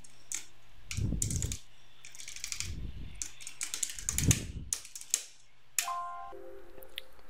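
Keys clatter on a computer keyboard in several quick bursts of typing, close and fairly loud, with short pauses between them and a brief electronic chime near the end.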